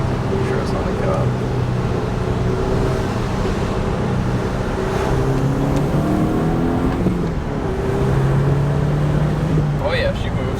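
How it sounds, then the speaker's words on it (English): Volkswagen MKV GTI on ECS Tuning coilovers driving with windows cracked, a steady engine and turbo drone with rising whistling tones over road noise, while people talk. "Get that turbo noise."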